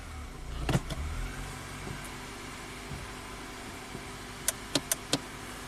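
A Honda car being tested after a stuck-in-park fault starts up with a brief engine crank, then idles quietly before a series of sharp mechanical clicks as the shifter moves into drive.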